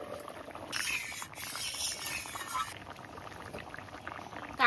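Clear water drains out of strained pulp in a soft, fairly close splashing pour that swells for about two seconds, then thins to a faint trickle.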